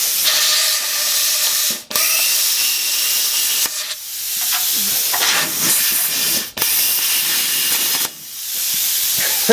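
A Hypertherm Powermax 30 plasma cutter cuts through metal with a loud, continuous harsh hiss, broken by a few brief pauses between bursts of cutting.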